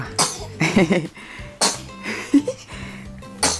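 A person sneezes in a home, and several sharp bursts of breath and a cough-like snort are spread across a few seconds, with voice sounds mixed in between.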